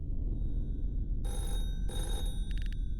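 A telephone rings in the video game Everhood 2, bursts of electronic bell trilling repeating over a steady low background hum, moderately loud and with no talking.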